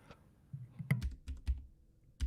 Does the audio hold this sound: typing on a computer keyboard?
yes